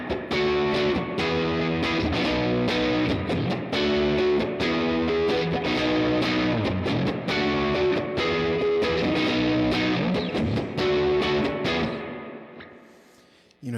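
Electric guitar plays through a Vox AC10 amp with spring reverb, giving a distorted garage-rock tone. Chords and riffs are strummed rhythmically with a steady pulse, then fade out toward the end with no talking.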